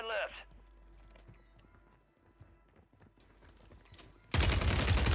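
Rapid automatic gunfire in Call of Duty Warzone on Rebirth Island, a loud sustained burst near the end after quieter scattered game sounds and footsteps.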